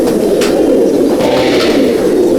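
Pigeons coo together inside a loft housing over 350 birds at Mominpur, a thick, continuous murmur of overlapping low calls, close and loud.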